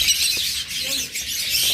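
Young albino pet birds, six months old, chirp in a cage as a dense, continuous wash of high-pitched twittering at steady loudness, with no voice over it.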